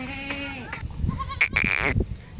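Kathiawari goats bleat nearby, a few wavering cries in quick succession, one higher and more strained than the rest, over faint background noise.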